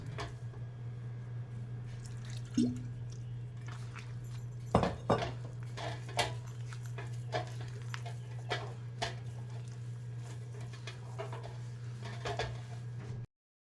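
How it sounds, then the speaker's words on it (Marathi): Rice flour dough being kneaded firm by hand while a little water from the mixer jar is added at a time, for metole or shengole. Soft wet squishes and occasional drips sound close over a steady low hum, with no talk. "त्याचंच पाणी आता मिक्सरचं जरा जरा घालून हे घट्ट मळून घ्यायचं आहे"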